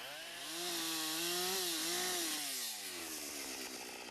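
An electric chainsaw cuts through wood in a Belgian forest used for logging, its high whine loud and close, rising in pitch as it bites into the timber and then easing off.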